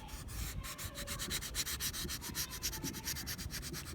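Oil pastels burnished on paper outdoors, giving a steady, rapid back-and-forth rubbing rhythm, close and fairly loud, with wind noise underneath.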